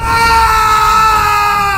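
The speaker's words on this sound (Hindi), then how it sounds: "विवेक की दर्द भरी चीखें पूरे घर में गूंज उठी।" A loud, sustained, anguished scream of pain from an animated horror story, one continuous wail filling the whole short clip.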